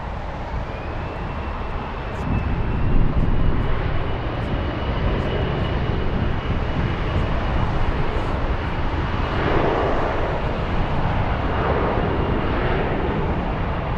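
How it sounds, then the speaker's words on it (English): A Mitsubishi CRJ 900 LR jet at Frankfurt airport gives off a loud, steady broadband engine roar with a faint whine, sustained and close, swelling slightly early on. "It's a Mitsubishi CRJ 900 LR again."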